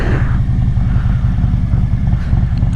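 A motorcycle engine hums steadily and close as the rider eases off the clutch in second gear, a loud, continuous low drone with no talking.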